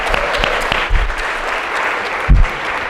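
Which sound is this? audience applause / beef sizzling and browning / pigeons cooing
audience applause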